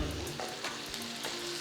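Chopped onion, chilli, carrot, sweet potato, radish and drumstick sauté in a pan for Andhra-style sambar, giving a steady close sizzle with faint scraping as they are stirred, and no talking.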